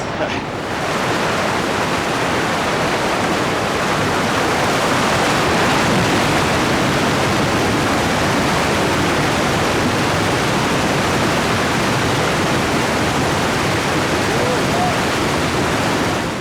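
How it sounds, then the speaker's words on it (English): Rushing water from a violent river undertow churns in a continuous, loud, broadband roar that stays steady with no break and no voices. "a violent river undertow"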